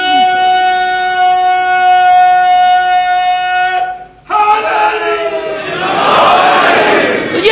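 A crowd roars a Nara-e-Haidari slogan in a loud, swelling shout that follows a sustained siren-like tone, the massed voices building to a dense peak near the end.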